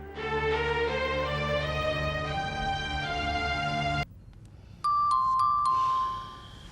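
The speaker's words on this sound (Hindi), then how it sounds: "ऐसे डोरबेल बजा रहा है जैसे कोई तीर मारकर आ रहा हो" Music plays, then stops abruptly; after a short pause a doorbell chime rings out in a quick ding-dong pattern, clear and close.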